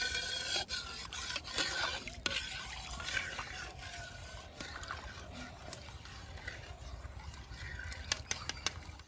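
Milk with agar agar powder is stirred in a pot, giving faint, repeated scraping and swishing strokes at close range.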